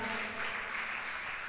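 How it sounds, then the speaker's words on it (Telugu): A church congregation claps together in praise of God during a sermon, a dense, steady wash of many hands that fills the room at an even loudness throughout, with no voices over it. "చప్పట్లు కొట్టి దేవుణ్ణి స్తుతిద్దామా?"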